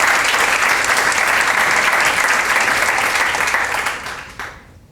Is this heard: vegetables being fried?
no